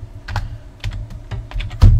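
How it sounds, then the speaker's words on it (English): A payment amount typed on a computer keyboard, with close, crisp keystrokes in a quick, uneven run of about ten presses and a heavier key hit at the end. "you're gonna type in the amount"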